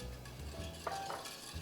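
Olive oil, corn oil, citrus zest and brandy are stirred together in a mixing bowl, with steady wet swishing and a few light clinks of a utensil against the bowl, close and moderately quiet.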